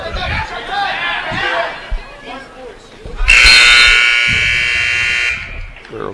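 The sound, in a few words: wrestling match period-ending buzzer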